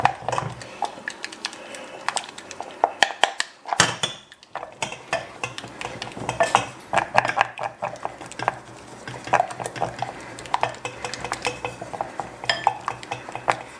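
A spoon stirs egg yolk mixture for eggs Benedict in a pan, giving continuous close metallic scraping and clinking with rapid irregular taps, one brief pause, and no talking.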